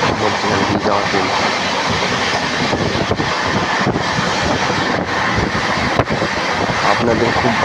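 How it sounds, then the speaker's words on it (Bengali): Loud, continuous rumble heard from on board a train running through open fields near Jalpaiguri, with rhythmic clickety-clack of the wheels and wind buffeting the microphone throughout. "মাঠের মধ্যখান দিয়ে যাওয়া ট্রেন।"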